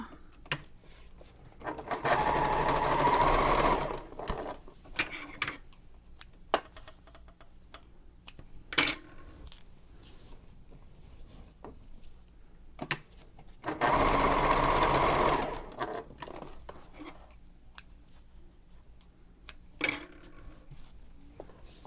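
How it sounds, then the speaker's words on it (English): A sewing machine runs in two bursts of steady, rapid stitching, sewing diagonal quilting lines through foam on a messenger bag, with quiet ticking and handling noises in the pauses between the runs. "Then I'm going to go and sew diagonal the other direction for the quilted look that I want."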